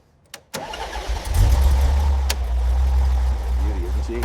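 A restored classic Porsche 911 engine cranks after a brief click, catches and settles into a loud, steady, throaty idle close by.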